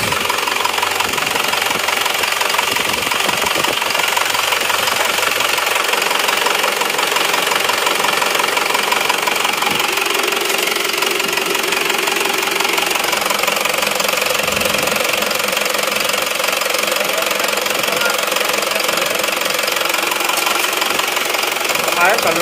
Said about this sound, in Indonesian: Ini stasionernya sudah pada saat start awalnya agak goyang-goyang, tapi setelah hidup ini sudah rata ini.